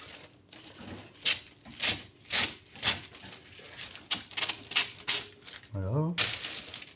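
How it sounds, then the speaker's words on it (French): Several sharp, crisp snips of scissors cutting parchment paper, spaced a half second apart, close by, followed by a brief voice at the end. "Si vous avez une paire de ciseaux, c'est mieux, ça coupe plus net."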